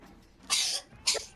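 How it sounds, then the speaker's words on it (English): Child coughing nearby, two sharp coughs about half a second apart, picked up over a voice-call microphone against quiet background. "is that your kid coughing?"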